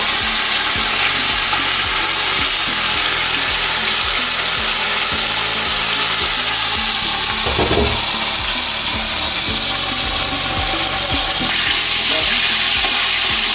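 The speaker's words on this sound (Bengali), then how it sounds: "এবার এগুলোকে একটা একটা করে দিয়ে আমি মাছগুলোকে ভালো করে ভেজে তুলে নেব" Bombay duck (lote) fish sizzle loudly in hot oil in a pan, a dense, continuous crackling fry close up, with occasional stirring and a brief splash partway through.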